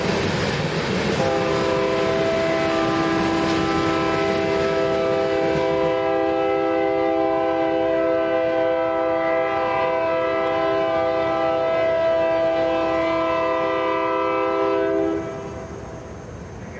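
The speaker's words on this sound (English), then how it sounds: "we get this eastbound putting on a horn show" An eastbound freight train sounds its horn in long, loud sustained blasts, a steady chord held for over ten seconds near a rail crossing at Rochelle, with rolling rail noise underneath before it cuts off.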